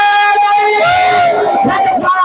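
A large crowd at a religious sermon by Allama Jaffar Qureshi shouts back a slogan in unison, a loud sustained wall of voices rising and falling over about two seconds.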